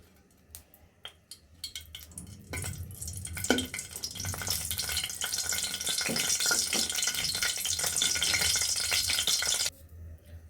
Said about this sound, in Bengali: আমাদের শুকনো লঙ্কাগুলো ভাজা ভাজা হয়ে গিয়েছে